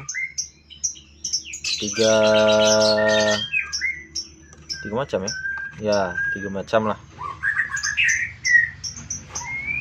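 Clear, varied oriental magpie-robin chirps and whistles ring out nearby, with a sustained harmonic call in the middle and a person speaking briefly between phrases.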